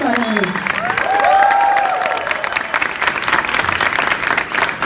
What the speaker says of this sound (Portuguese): aplausito para ellos